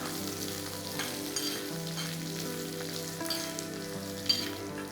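Chopped large onion sautéing in a pan for dry shark curry, a steady close sizzle with faint stirring scrapes, no voices.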